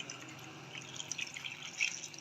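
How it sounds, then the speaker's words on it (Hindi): Water poured from a faucet or vessel into a bowl of salted taro root, a soft, faint trickle with light drips and splashes, steady and close, with no talking. "तो इसमें मैं शामिल कर देती हूँ पानी।"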